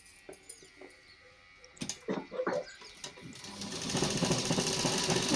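A sewing machine stitches a Punjabi dress top, starting after a few handling clicks and then running in a steady, close whirring buzz through the last seconds.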